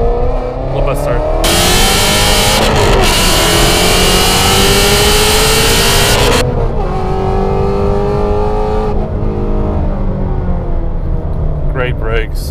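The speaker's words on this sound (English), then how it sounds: "Let me give it a little second gear here." Supercharged Ford Mustang GT350 accelerating hard in second gear: a loud, close engine roar climbs in pitch under full throttle, then eases off and settles into a lower drone with some mechanical whine.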